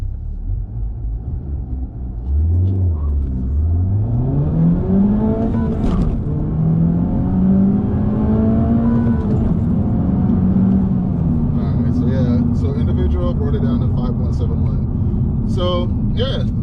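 A 2023 Honda Civic Type R accelerates hard from a standstill to 60 mph on a dusty surface, its loud, close engine note climbing steadily in pitch through the gears, with a brief break at a shift.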